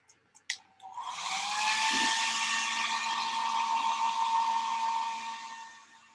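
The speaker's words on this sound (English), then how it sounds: "I think I'm going to hit this with a dryer real quick." A hair dryer dries a watercolor painting, starting with a couple of clicks, then blowing with a steady, loud whoosh and whine that holds for about four seconds before easing off.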